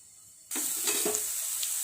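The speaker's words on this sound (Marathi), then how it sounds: "टोमॅटो थोडा सॉफ्ट होईपर्यंत आपल्याला रोस्ट करून घ्यायचं" Tomatoes roasting in a pan for pizza sauce: a sudden loud sizzle bursts in and holds steady, with a few soft stirring scrapes underneath, close by.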